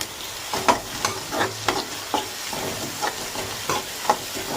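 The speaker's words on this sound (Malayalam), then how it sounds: "ഇനി എടുത്ത് വെച്ചിരിക്കുന്ന 3 തണ്ട് കറിവേപ്പിലയും കൂടി ചേർത്ത് വെക്കും" Curry leaves hit hot oil in a frying pan while kothu parotta is cooked, giving a steady close sizzle punctuated by regular scraping stirs of a spatula, with no talking.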